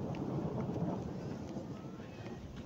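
A low, rolling rumble of distant thunder with wind noise on the microphone, steady and heavy throughout the clip.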